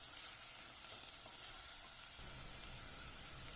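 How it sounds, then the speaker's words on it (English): Chopped onions and a few bay leaves sizzle in hot olive oil over medium-low heat, a dense steady hiss close up with a couple of faint utensil ticks and no voices. "When the oil is hot, I'll add my onions, a few bay leaves, and let the onions sweat for a couple of minutes on medium-low"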